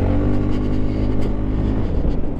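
A 2022 Honda Forza 350 scooter's engine pulls steadily as it winds open on the road, a continuous loud drone with rising tone and wind noise throughout.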